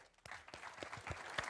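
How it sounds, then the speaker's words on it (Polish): Audience applause at a Fame MMA press conference, a burst of clapping starting abruptly and continuing steadily, with sharp individual claps standing out, fairly close. "wielkie brawa"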